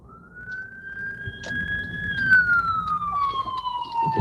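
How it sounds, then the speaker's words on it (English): An ambulance siren passes on the road, a loud sweeping wail that rises and then falls in pitch as the vehicle goes by, with traffic rumbling underneath. "let this ambulance go through"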